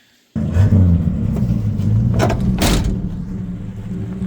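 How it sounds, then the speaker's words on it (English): An old Studebaker pulls away with a loud, rumbling engine, starting abruptly and holding a steady, throaty roar with a brief surge partway through, no talk. "maybe we'll just get a shot of the Studebaker driving away into the sunset. That thing's loud."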